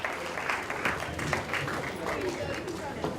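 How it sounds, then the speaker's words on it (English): Audience applause for performers at a celebration event, a dense, steady wash of clapping throughout with some cheering and chatter mixed in. "Let's have a huge round of applause for all our performers"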